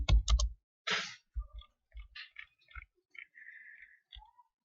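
A computer keyboard being typed on up close, with irregular clusters of light clicks broken by short silent pauses.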